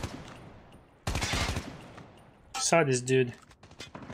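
Sniper rifle fire in the mobile shooter Call of Duty Mobile: one loud, sharp burst of gunfire, followed after a pause by someone talking.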